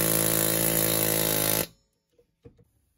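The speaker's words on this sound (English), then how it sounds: "So I'm gonna use my air hammer to punch it out." An air hammer punches a seized rear CV axle out of its wheel bearing, a loud continuous rapid hammering that stops abruptly, followed by a couple of faint metallic knocks.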